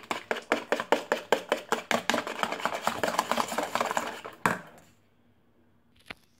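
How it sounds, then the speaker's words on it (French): Dough is mixed briskly in a bowl, with a fast, regular series of loud clacking strokes that gradually blur into a quicker scraping churn before stopping, followed by near silence and one faint knock. "Vous allez bien mélanger."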